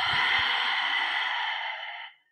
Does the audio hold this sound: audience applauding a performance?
no